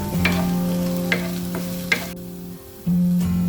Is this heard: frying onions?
yes